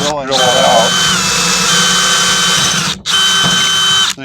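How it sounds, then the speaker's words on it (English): A power drill whirs loudly and close up as it bores a broken wooden axe handle out of the axe head, running steadily with a brief stop and restart near the end. "I'm going to start with drilling that out"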